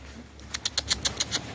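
Rapid bursts of pigeon wings flapping, about eight quick beats in a row, over a quiet background hum.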